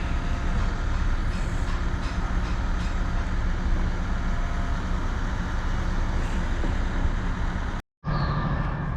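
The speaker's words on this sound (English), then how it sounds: "There comes the train. Platform 1." A passenger train rolls in to platform 1 at a railway station, a steady loud rumble of wheels and engine filling the scene before a brief cut, with no talk over it.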